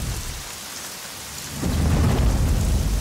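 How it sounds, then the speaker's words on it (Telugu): A thunderstorm with rain: a quieter wash of rainfall, then a deep rolling rumble of thunder swells up about halfway and holds loud over heavy, steady rain to the end. "ఎక్కడ తెచ్చాడు వీడు ఈ వర్షం ఒకటి?"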